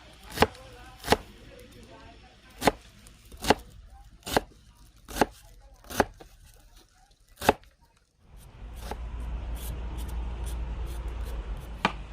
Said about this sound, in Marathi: थोडीशी कोथिंबीर चिरून